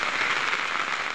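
Heavy rain falling on a village road in East Karbi Anglong, Assam, a dense close hiss of drops spattering on surfaces, steady and loud for a brief moment with no talk.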